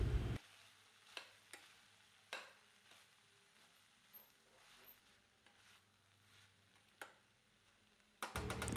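Field bean (avarekai) mixture sizzling and frying in a pan while a spoon stirs it, with soft scraping clicks over a steady low fry and a louder burst near the end.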